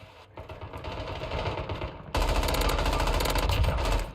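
Rapid automatic gunfire in a video game, a steady stream of bursts that swells louder and denser midway through and keeps rattling without pause, no talk over it.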